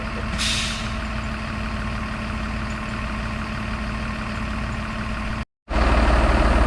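A converted school bus idles with a deep, steady diesel rumble, and a sharp hiss of air brake release comes near the start. After a brief dropout the engine returns louder and close.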